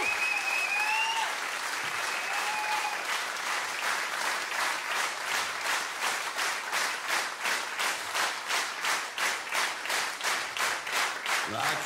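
Theatre audience at the Münchner Lustspielhaus applauding a Schmidbauer and Wolfgang Ambros show, loud dense clapping that gradually settles into rhythmic unison beats, with a few whistles early on.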